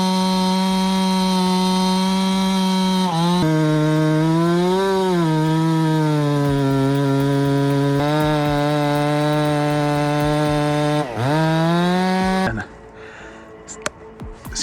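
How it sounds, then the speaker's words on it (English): A chainsaw running at high revs, a loud steady whine that dips briefly twice before cutting out near the end. "the chainsaw chain moves at over 110 kilometers per hour, faster than a car on the highway"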